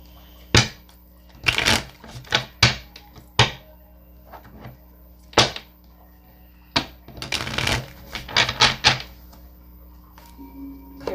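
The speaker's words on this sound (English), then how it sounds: "Let me shuffle the cards." Tarot cards shuffled by hand in a series of crisp riffles and flicking bursts, irregular and close, with quiet gaps between clusters and no voice over them.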